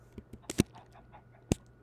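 Fowl in a video game give a few short, sharp honking calls: a quick pair of cries near the start and one more a second later over a quiet background hum.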